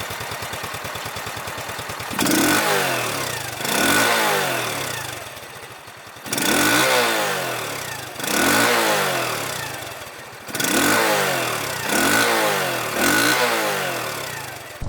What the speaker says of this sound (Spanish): un escape más ruidoso e interesante cuando queremos llevar la moto revolucionada